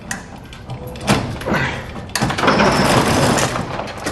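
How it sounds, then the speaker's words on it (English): A door is pulled open with a few clunks and a scraping slide, followed by a loud, steady rush of cold outdoor night noise close by. "I'm gonna open up this door behind you."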